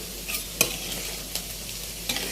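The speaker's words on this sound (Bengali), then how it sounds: "এখন একটু পেঁয়াজ বেরেস্তা করে নিচ্ছি," Onions frying crisp in hot oil for a liver curry, a steady close sizzle broken by a few sharp scraping stirs of a spatula against the pan, no voices.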